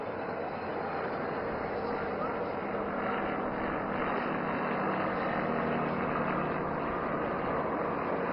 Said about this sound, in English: Now aircraft is entering into a maneuver of making figure of 8.